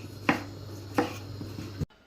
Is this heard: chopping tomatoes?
yes